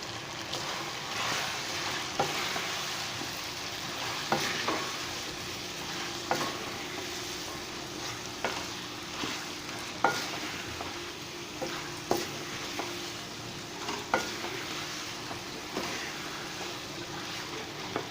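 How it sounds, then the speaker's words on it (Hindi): Salt, chili, turmeric and garam masala are stirred into tomatoes and potatoes frying in a pan, a continuous close sizzle broken by regular scraping strokes of the spoon every couple of seconds. "मैं नमक मिर्च हल्दी और गरम मसाला जो है वो शामिल कर लेता हूँ और अच्छे से इसको मिक्स कर लेता हूँ"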